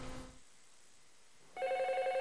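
A telephone starts ringing near the end, a clear, steady electronic tone that follows a brief lower sound and a short quiet gap.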